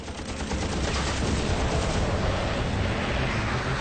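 A P-51 Mustang fires its machine guns in aerial combat as a dense, continuous rattle of rapid gunfire that stays loud and unbroken for several seconds.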